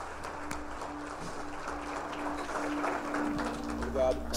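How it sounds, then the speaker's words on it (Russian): Applause from a church congregation during a revival healing service, a steady broadband patter of clapping lasting the whole few seconds, with voices talking over it. "Дайте Иисусу большие аплодисменты."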